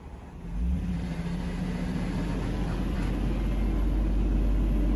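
A car engine's idle steps up to about 1500 RPM, the low hum jumping to a steadier, fuller rumble within the first second and then holding constant, recorded close with no talk.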